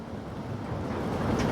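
Wind rushes steadily into the microphone in a cold outdoor spot, a dense broadband roar that builds slightly, with no voices.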